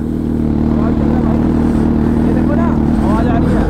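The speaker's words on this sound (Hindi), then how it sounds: "भाई बाइक तो स्टार्ट हो गई है" A 2023 Hayabusa motorcycle engine idles steadily after a crash with a loud, low throbbing drone, while people talk nearby over the running engine.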